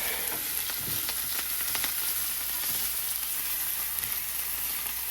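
Chicken of the woods mushroom with sprinkled parsley frying in a pan, a continuous soft sizzle with faint stirring scrapes, fairly quiet and close, no talking.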